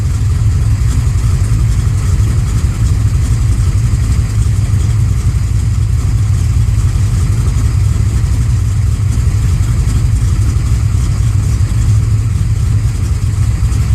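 A car engine idles while warming up, a loud, steady low hum with even pulsing that holds unchanged throughout, close by and with no talk.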